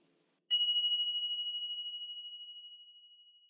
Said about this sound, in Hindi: हम यह प्रैक्टिस घंटी के बजने पर शुरू करेंगे।